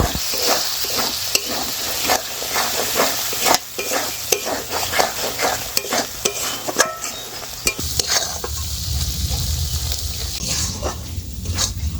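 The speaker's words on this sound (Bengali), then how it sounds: "মশলা খুব ভালো মতো মিশিয়ে নিয়েছি।" A spoon stirs turmeric, Kashmiri chilli powder and salt through frying Katla fish curry in a pan, with loud rhythmic scraping strokes over a constant sizzle that continues steadily once the stirring eases.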